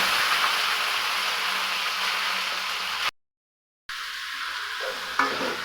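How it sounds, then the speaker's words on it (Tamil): Chicken sautéing in a hot pan with popped mustard seeds and curry leaves, a loud, continuous sizzle with scraping stirs, cut by a short gap of silence before the frying resumes. "கறியை போட்டு வதக்கணுன்னா வதக்கிட்டே இருங்க."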